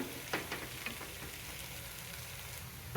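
Masala sautéing in a pan over a flame, heard as a faint, soft sizzle with a few light scrapes of stirring near the start, no voices.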